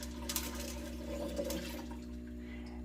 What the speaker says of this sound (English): I do need to continue filling up this tank with water